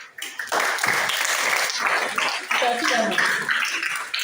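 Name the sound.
audience clapping for a woman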